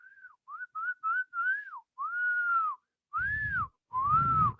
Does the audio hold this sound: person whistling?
yes